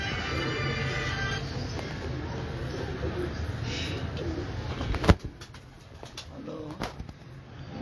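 Pigeons on a rooftop loft cooing softly in the background, faint and intermittent under steady outdoor noise, with a brief sharp knock partway through.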